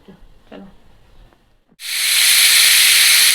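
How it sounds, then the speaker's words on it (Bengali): After a second or so of faint clinks, potatoes hit hot oil in a pan and set off a sudden loud, steady hiss that carries on close and even to the end, with no talking. "এখানে আলু ভাজা বসিয়েছি"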